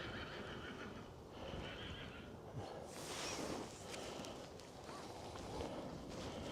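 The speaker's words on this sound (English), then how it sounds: "There's a lovely horse over there." A horse in a countryside field near Lynsted, Kent, lets out a whinny at a moderate distance over steady outdoor wind noise, with a few faint hoof clops.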